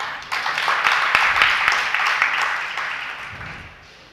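An audience claps through a spiritual discourse gathering, a steady wash of applause rising and then tapering off, moderately loud and somewhat distant.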